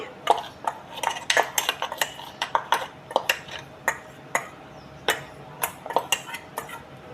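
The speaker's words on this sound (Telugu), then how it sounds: "ఆవాలు మెంతుల పొడిని ముందుగా ఒక బౌల్లోకి తీసేసుకుంటున్నానండి" A spoon scraping and clinking against a metal bowl while mustard and fenugreek powder is scooped in, with a series of sharp, close, irregular taps and rattles and no talk.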